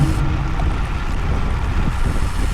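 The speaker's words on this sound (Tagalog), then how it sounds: "Sobrang lakas ng hangin." Strong, steady wind gusting across an open outdoor area at a championship event, a loud continuous roar and buffeting rumble filling the whole stretch with no pauses.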